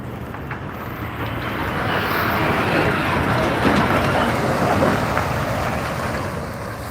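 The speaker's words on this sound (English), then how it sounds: "Okay, there's a truck." Truck arriving outside a pig slaughterhouse, its engine rumbling and swelling as it draws nearer, then easing off, heard outdoors with wind buffeting the microphone.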